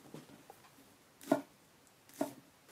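Knife chopping green onions on a board in a home kitchen, two distinct quiet cuts about a second apart with faint softer taps before them.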